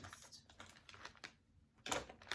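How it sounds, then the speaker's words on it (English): Scissors cutting across the top of a crinkly snack bag of dal, corn and rice crisps, soft close snips and rustling plastic, faint and alone. "I'm just gonna cut the whole top off"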